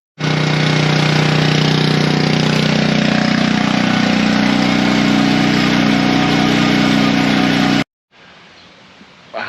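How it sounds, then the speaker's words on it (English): Honda engine on a seed wagon in a shop, weathered after sitting outdoors since last fall, running loud and close with a steady rapid chugging roar that cuts off abruptly, leaving quieter background noise. "A Honda motor is very reliable."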